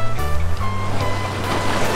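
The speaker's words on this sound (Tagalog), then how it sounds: "Yung tunog ng alon mga kasikle." Ocean waves wash onto the shore at Barakuda Beach Resort in Nasugbu, Batangas, a steady broadband rush and hiss with a low engine-like drone underneath, continuous and fairly loud.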